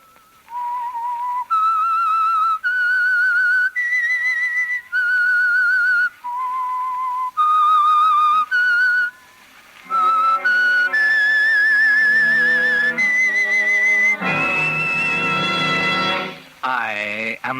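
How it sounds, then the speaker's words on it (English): Whistled theme tune for a 1940s radio mystery show, a clear solo melody of distinct held notes and phrases, loud and close, ending in a swelling orchestral chord. "That whistle is your signal for the Signal Oil program,"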